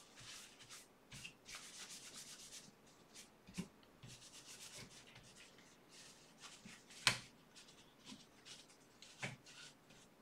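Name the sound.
wiping old grease off a Mac Plus floppy drive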